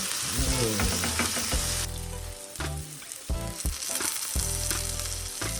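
Turkey burger patties browning in a pan give off a loud, dense sizzle, mixed with intermittent low tonal sounds in the background that drop out and return.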